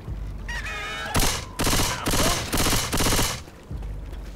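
An automatic weapon in a Left 4 Dead 2 VR mod fires in four or five loud, rapid bursts close by, separated by short pauses.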